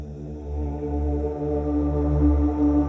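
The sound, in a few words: voice imitating the Evil Dead demonic force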